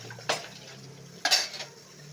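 Plates and dishes being washed by hand in a home kitchen: two sharp ceramic clatters, one early and one stronger about a second later, with softer clinks and a faint water wash between.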